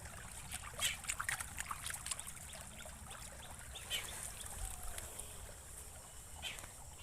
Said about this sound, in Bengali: এই দেখো পাইপে জল আসছে